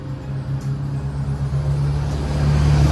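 A bus passes on a road in Cyprus, a steady low engine drone and tyre rumble that swells gradually louder as it nears, with no talking.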